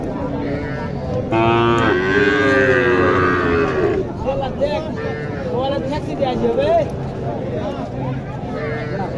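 A small young bull calf moos repeatedly and loudly at a busy cattle market, with other cattle lowing nearby and people talking in the background.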